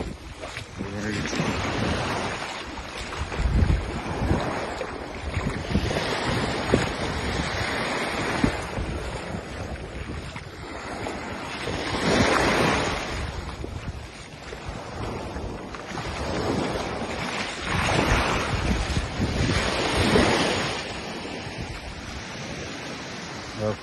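Waves and gusty wind on Lancecoy Beach, Mustique, with surf surging and washing ashore in slow swells while wind buffets the microphone throughout.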